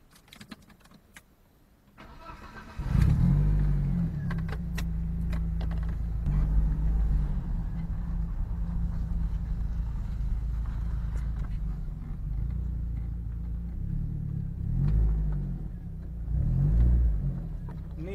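A BMW E36 1.8 ti starts up and drives, its engine note rising after a few seconds of quiet and holding a steady drone with occasional revs, heard alone and close.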